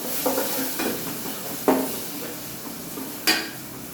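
Tomato sautéing in a pan on a gas stove: a soft, close sizzle broken by a few sharp spatula clanks and scrapes against the metal.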